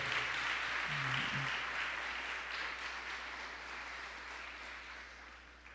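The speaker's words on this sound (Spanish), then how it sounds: "¿Por qué no le damos un aplauso fuerte a nuestro Dios?" A church congregation applauds, a steady wash of clapping that fades slowly toward the end, with a brief voice near the start.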